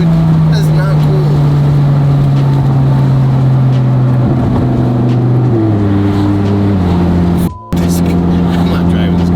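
Audi TT R8 fitted with Motec engine management accelerating hard, a loud close engine drone climbing through revs with a brief shift break near the end.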